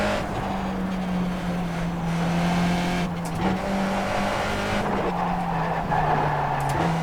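A Skip Barber race car at Bathurst in iRacing drones at a steady engine pitch, with faint tire squeal and skidding on worn tires mixed into the continuous, fairly loud car noise, no talk.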